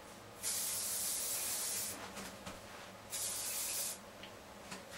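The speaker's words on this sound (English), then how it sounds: "if you want to finish with shine spray, you can." Two long hissing bursts of aerosol shine spray on hair, each lasting over a second, close and fairly loud, separated by a short pause.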